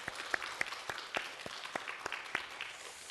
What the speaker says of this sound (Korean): 우선 환영의 박수 드리겠습니다.